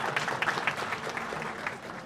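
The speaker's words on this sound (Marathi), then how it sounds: "लोक टाळ्या तरी वाजू राहिले कार्यक्रमाला." Audience members clap at a restaurant's grand opening event, a short, steady patter of many hands from a modest crowd, moderately close with no voices over it.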